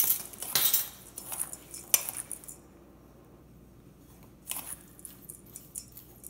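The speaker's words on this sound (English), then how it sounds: "So we'll stir that up." Metal spoon stirring psyllium into a seed cracker mixture, a few sharp clinks and scrapes against the bowl early on, then a quiet pause before another brief burst of scraping.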